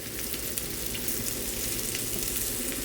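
Mushrooms frying in avocado oil in a pan, an even, continuous close sizzle with soft crackles throughout and no talking.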